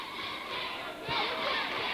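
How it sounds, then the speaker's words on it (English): A full gym crowd at a girls' varsity high school basketball game, a broad murmur of many voices that swells into louder cheering halfway through, filling the room at a moderate distance. "Great crowd. It's a full gym tonight"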